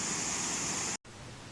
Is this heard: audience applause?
no